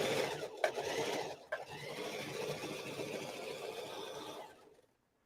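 A sewing machine stitching sleeves onto a garment runs in a steady, close mechanical whir for about four seconds, with a brief pause near the start, then stops.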